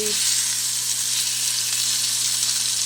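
Southern Comfort chicken frying in a pan just after being flipped, a loud continuous close sizzle with a brief clatter at the start.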